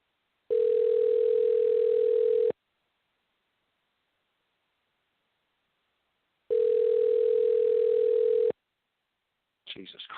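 An outgoing call to a 610 area code rings unanswered, with two long ringback tones about two seconds each separated by silence. A voice starts speaking right at the end.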